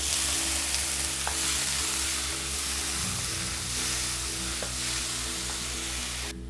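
Chopped tomatoes and ginger fry in a pan, a loud continuous sizzle up close with occasional stirring scrapes, the hiss easing briefly midway and then continuing.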